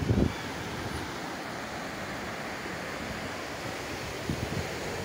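Surf rolls onto the sand at Praia de Pernambuco beach in Guarujá, a steady wash of waves heard with heavy wind buffeting the microphone.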